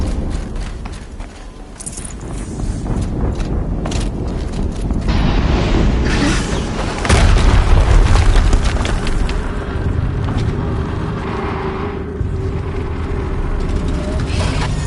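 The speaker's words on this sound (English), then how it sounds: "Another explosion." An explosion in the video game Horizon Zero Dawn gives a deep boom partway through, rising out of continuous loud, dense game noise and rumble.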